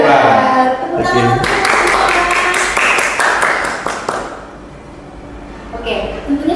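A short burst of audience clapping rings out in a school podcast studio, rapid and bright for a few seconds, tangled with talking voices before fading away.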